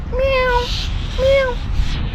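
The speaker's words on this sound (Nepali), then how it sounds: "बिरालो छ यहाँनिर" A cat meows twice, close and clear, with a short pause between the two calls.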